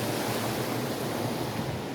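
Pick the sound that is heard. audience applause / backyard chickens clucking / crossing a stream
crossing a stream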